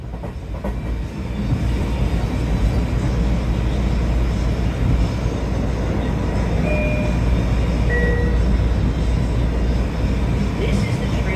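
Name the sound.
Long Island Railroad M9 train riding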